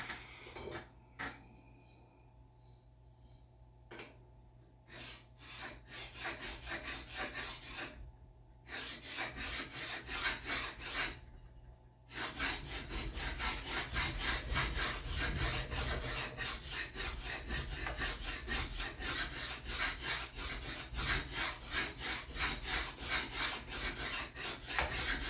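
Rust is scrubbed off the back of a steel draw knife in a run of rapid, rhythmic rasping strokes, broken by short pauses early on and then continuous and louder, close up and without speech.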